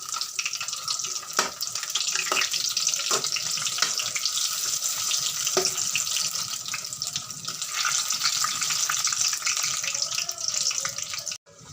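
Cauliflower bajji fry in hot oil, a loud, dense, continuous close sizzle with a few faint clinks and taps over it and no voices.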